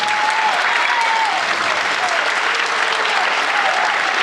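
Sustained, dense audience applause fills a theatre after a movement-theatre performance, steady and loud throughout, with faint cheering tones drifting over the clapping.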